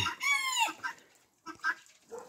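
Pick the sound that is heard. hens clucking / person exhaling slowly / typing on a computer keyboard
hens clucking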